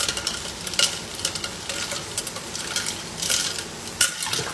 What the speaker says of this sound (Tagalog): meron tayong sandok and then haluin natin dyan sa loob